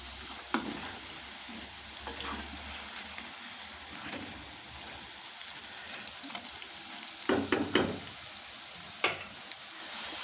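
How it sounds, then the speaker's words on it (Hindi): Dahi bhalle lentil dumplings fry in hot oil with a steady, moderate sizzle and bubbling, broken by a few louder spattering bursts and spoon stirs near the end. "और आप देख रहे हैं फ्रेंड्स कि जैसे जैसे भल्ले तेल के अंदर जा रहे हैं वो फूल फूल कर ऊपर तैर रहे हैं।"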